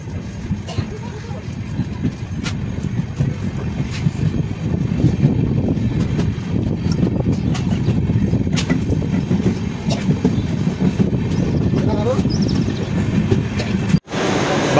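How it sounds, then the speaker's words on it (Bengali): Uttarbanga Express, a train with a new LHB rake, pulls into Jalpaiguri Road station: a steady rumble with faint wheel clatter and rail noise throughout, voices faintly underneath, ending in a sharp thump. "এবার আমাদের ট্রেন এসে পৌঁছলো জলপাইগুড়ি রোড রেলওয়ে স্টেশনে।"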